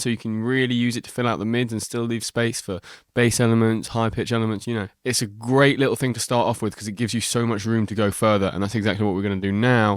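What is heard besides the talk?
No distinct noise like a dog, phone or traffic.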